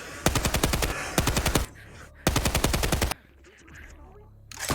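Rapid automatic gunfire in a roleplay video game rattles out in three loud, close bursts separated by short pauses, with quieter background noise between them.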